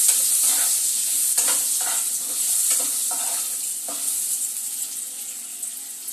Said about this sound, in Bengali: একটু ভালো করে নাড়াচাড়া করে আলুগুলোকে লাল লাল করে ভাজবো